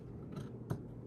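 Scissors snip through a square of craft material for a small apron, making two brief, close cuts with a faint crunch. Otherwise the space is quiet.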